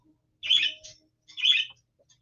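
Pet parakeets in a cage let out two short bursts of chirping with a quiet gap between them, followed by a brief final tweet.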